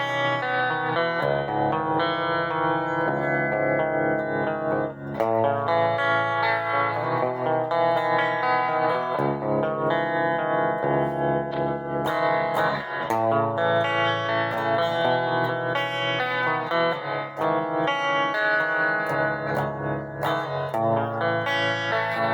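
An electric guitar plays chords through a Kustom combo amp with a pulsing tremolo at speed 4.5, depth 3, and heavy, washy reverb at 10, steady and loud with no talking.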